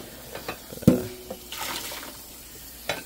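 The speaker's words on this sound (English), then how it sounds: "just using some warm water to rinse it out" Warm tap water runs and splashes as a Scrub Daddy sponge is rinsed in a kitchen sink, with a sharp knock near the start and intermittent gushes of water, close and fairly quiet.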